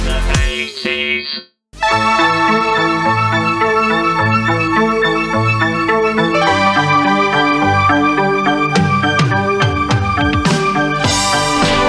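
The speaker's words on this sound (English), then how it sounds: "The theme of Brookside." Theme tune of the 1980s British TV soap Brookside, a loud, full instrumental with steady synth and band parts playing continuously after a short gap near the start, no talking.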